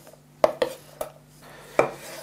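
Chopped garlic mixed with onion in a bowl, heard as a few distinct clinks and scrapes of a utensil against the dish with quiet pauses between them.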